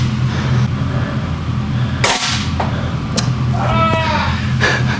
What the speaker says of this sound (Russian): Звук страшнее, чем сам выстрел.